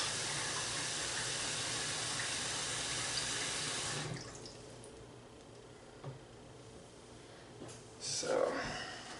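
Hot water running from a tap while honey jars are rinsed, a steady close hiss that stops after about four seconds, followed by a few faint clinks and splashes.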